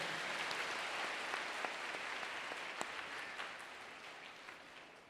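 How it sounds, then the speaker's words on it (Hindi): A congregation at a church fasting prayer meeting claps loudly in praise, a dense, sustained patter of hands with a few sharper claps standing out, slowly fading at the end. "जोरदार ताली बजाकर प्रभु की स्तुति करो।"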